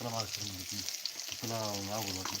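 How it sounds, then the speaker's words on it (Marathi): Snacks deep frying in hot oil give a steady, soft sizzle that runs continuously beneath women chatting nearby. "काय तळण चालू आहे"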